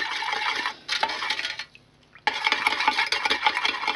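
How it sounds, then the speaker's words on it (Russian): A spoon clinks and scrapes briskly in a container while stirring sugar and salt into water for sauerkraut brine, close and busy, with a brief pause near the middle before the stirring resumes. "Хорошо перемешиваем."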